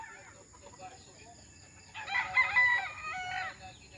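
A young fighting rooster crows once in a cording area during stag derby preparation. The crow rises clearly from a quiet background, close and moderately loud, after a soft earlier call.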